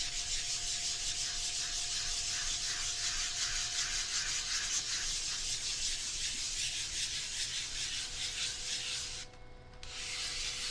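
A 220 grit foam sanding block rubs back and forth in steady, rhythmic strokes, continuous and close, with a brief pause near the end before the sanding resumes.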